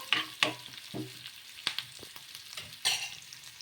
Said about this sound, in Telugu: ఇలా జీలకర్ర ఆవాలు వేసుకున్న తర్వాత ఇందులోకి చిన్నగా కట్ చేసి పెట్టుకున్న ఆనియన్ ముక్కలు, ఇలా ఒకసారి బాగా కలిపేసుకుందాము